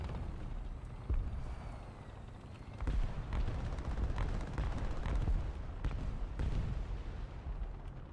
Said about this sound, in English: that is that Panzer Howitzer I'm hearing